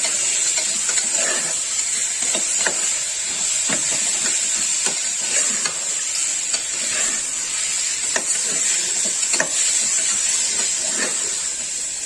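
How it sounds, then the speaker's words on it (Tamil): Steady sizzling and hissing as crab stir-fries in a hot pan, with repeated scraping stirs breaking through at an irregular pace, close and fairly loud. "நண்டையும் நல்லா வதக்கிடுங்க, இல்லாட்டி கவுச்சி வாசனை வரும்."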